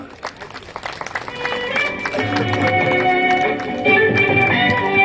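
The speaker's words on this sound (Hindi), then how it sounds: "वेरी गुड, जोरदार तालियां।" An audience at a health and meditation talk in New Panvel claps, starting with scattered hand claps that swell into steady, full applause, with music or a tonal hum rising beneath the clapping.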